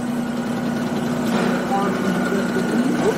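Busch Gardens steam train locomotive idling up close, a steady low hum and drone holding even throughout with a faint whistle-like tone near the end.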